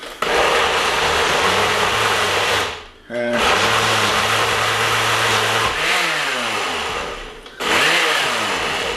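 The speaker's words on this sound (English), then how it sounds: "we're just gonna pulse it until it gets down where we need it to be" A countertop blender pulses chopped vegetables for a low-carb veggie dip, its motor whirring in loud bursts that stop briefly and restart, with a rising and falling pitch between pulses as voices talk over it.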